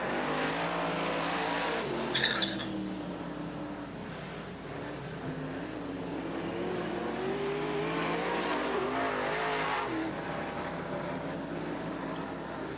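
Race cars circle the Southern Oregon Speedway oval, engines droning continuously at a fairly loud level, with a brief sharp screech near the start and another later, as a car runs into trouble in turn two.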